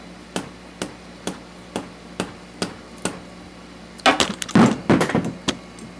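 Evenly spaced dull taps of a rubber hammer on a Kawasaki KLR650 motorcycle during a tire and sprocket change, about eight in a row, followed by a louder clatter of knocking and shuffling.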